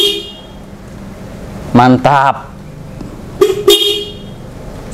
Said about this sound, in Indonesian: Tes klakson dulu.